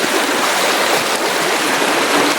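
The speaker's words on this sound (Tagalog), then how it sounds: "Walang katapusang ilog po ito" Steady rushing of flowing river water in the mountains, loud and continuous, with no voices.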